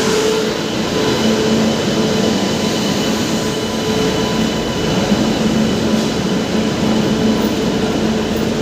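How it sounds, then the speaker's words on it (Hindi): The Purushottam Superfast Express arriving at a platform at Kanpur Central, a steady loud rumble of rolling wagons that continues evenly throughout without talk. "अपनी ट्रेन अराइव करती हुई कानपुर सेंट्रल के प्लेटफॉर्म नंबर 4 पर, पुरुषोत्तम सुपरफास्ट एक्सप्रेस"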